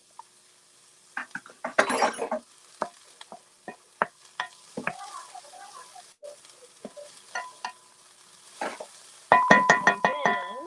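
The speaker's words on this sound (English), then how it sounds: "we're going to saute this for a little bit more." A spoon scrapes and stirs Jamaican beef patty filling in a pan, irregular close clicks and knocks over a soft sizzle, with a denser flurry of stirring near the end.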